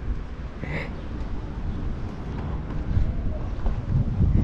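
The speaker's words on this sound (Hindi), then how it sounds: "इतनी गजब हवा चल रही है ना जिसकी कोई बात ही नहीं" Strong wind gusts across the mic by the Caspian Sea at Venice of Baku, a constant loud rumble swelling toward the end, with faint talk underneath.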